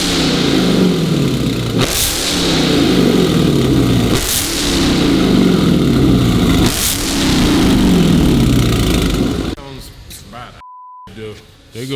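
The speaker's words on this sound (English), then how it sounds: "So this exhaust sounds crazy." Dodge car revving hard through a new loud aftermarket exhaust, with three rising surges each ending in a sharp drop, close and loud for most of the clip before cutting off, then brief quiet noise near the end.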